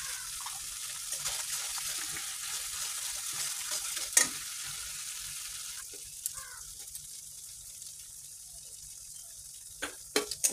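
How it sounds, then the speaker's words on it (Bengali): Spices are sautéed with turmeric and salt in a pan, giving a steady broadband sizzle with soft scraping strokes and a few sharper clinks near the end; no voices. "বেশ করে এটা একটু কষাবো"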